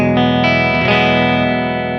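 A single sustained guitar chord from a Relish Jane guitar, magnetic pickup blended with acoustic pickup tone, ringing loud and full with distorted, effected sustain and a slight shimmer partway through, slowly fading.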